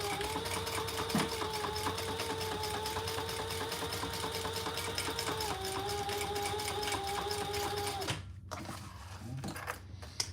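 A sewing machine stitches across folded leather, a steady close mechanical whir with fine rapid needle clatter running for about eight seconds before stopping, followed by quieter handling noise.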